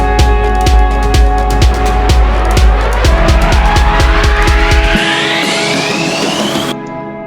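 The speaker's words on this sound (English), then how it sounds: "These different risers and exhausts." Electronic riser and exhaust effects in a dance-track build-up: a rapid accelerating kick pattern under a rising sweep that climbs steadily, then the beat drops out while the riser continues and cuts off abruptly.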